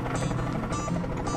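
Helicopter in the building game Plank not included, giving a steady, loud rotor drone with a rhythmic whooshing pulse that repeats about every half second, with no voices.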